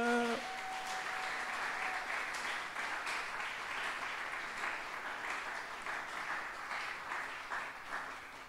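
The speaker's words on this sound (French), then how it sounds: "Est-ce que nous pouvons acclamer le Seigneur?" A church congregation claps steadily in sustained applause acclaiming the Lord during a French-language worship service, dense and even throughout with a faint tone at the very start.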